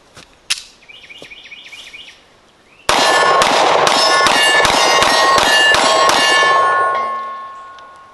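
A Hi-Point 9mm pistol fires Remington range rounds in a rapid string of about nine loud, sharp shots with ringing metallic echoes, after a few quieter handling clicks and clinks.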